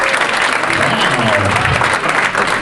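Comedy club audience at Rob's Comedy Playhouse breaking into applause, a short burst of crowd clapping with some voices mixed in.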